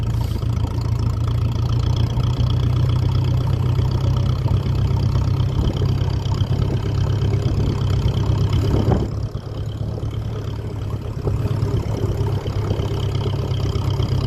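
A 1957 Ferguson 35 vintage tractor running on TVO, its engine chugging steadily with a low, continuous rumble that stays loud and close throughout, briefly dipping near the middle before carrying on, with no talking.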